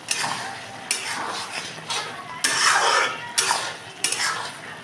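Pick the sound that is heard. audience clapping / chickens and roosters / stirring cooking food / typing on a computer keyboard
stirring cooking food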